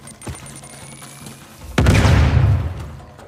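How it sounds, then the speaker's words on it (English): A grenade blast in Uncharted: The Lost Legacy, set in the Western Ghats: a faint shot early on, then a loud, sudden boom with rolling rumble and scattered gunfire that slowly decays, no talk. "Grenade out!"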